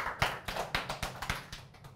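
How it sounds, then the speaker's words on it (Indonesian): Slow rhythmic hand claps, about eight evenly spaced beats over two seconds, sound close and fairly soft as a comedy audience applauds. "Tepuk tangan dulu buat di channel."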